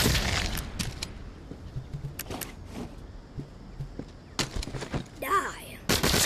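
Gunshots in a zombie shooting video game, a scatter of sharp shots and short bursts at moderate loudness, mixed with footsteps and other game noise.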